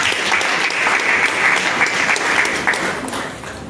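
A church congregation claps loudly and continuously in praise for Jesus Christ, a dense roomful of applause held steady for several seconds with faint voices underneath.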